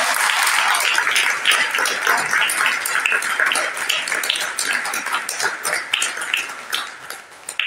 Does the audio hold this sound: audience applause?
yes